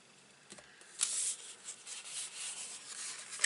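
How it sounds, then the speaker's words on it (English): Folded paper card edges burnished by hand, a quiet dry rubbing and scraping in short strokes, faint and close, with a couple of brief sharper scuffs. "Give them a good burnish. And just going up the sides to smooth out them edges."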